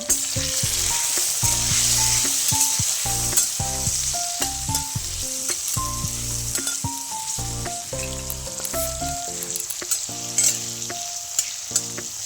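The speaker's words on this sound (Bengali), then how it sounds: "এবার তেলের মধ্যে আমি কাঁকরোলের টুকরোগুলোকে দিয়ে অল্প লবণ আর হলুদ দিয়ে কাঁকরোলগুলোকে ভালো করে ভেজে নেব" Teasel gourd pieces with salt and turmeric frying in hot mustard oil, a loud continuous close sizzle under repeated stirring and scraping strokes, with no voices.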